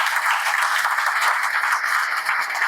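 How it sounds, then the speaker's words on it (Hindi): Audience applauding women attendees at a product introduction event, a dense, steady wash of many hands clapping continuously, fairly close and alone without talk. "महिलाओं के लिए जोरदार तालियां होनी चाहिए"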